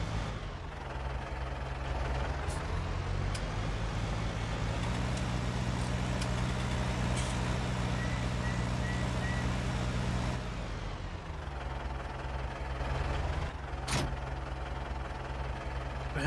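A small orange 95-horsepower tractor in Farming Simulator 19 runs steadily in the game, its engine a continuous low drone that holds level, dips briefly near the end and then resumes, with no talk over it.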